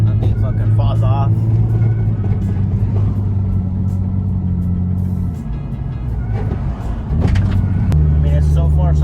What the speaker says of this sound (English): we're currently taking it for a test drive, obviously, to see if nothing fucking falls off